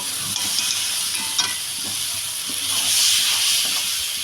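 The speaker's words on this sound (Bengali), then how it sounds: "এখন আমি মটনটাকে দিয়ে কষাতে থাকবো আর আমি উপর থেকে আলুটা আমি ভাজা করিনি আলুটাও আমি একসঙ্গে দিয়ে কষাবো" Mutton and potatoes stir-fried together in a pan for a Bengali goat curry, giving a steady close sizzle with soft scraping stirs and a few sharper clinks, continuous throughout without talk.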